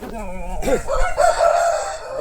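A GP line rooster on a farm gives a single loud, drawn-out crow close by, rising sharply and then holding a long wavering note with little else around it.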